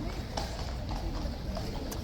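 The King's Horse guard horses clip-clop in a steady stream as they come straight into the stables, the hoofbeats moderately close under crowd noise and some talk.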